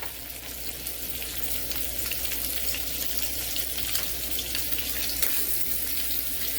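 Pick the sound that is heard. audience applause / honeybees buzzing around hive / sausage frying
sausage frying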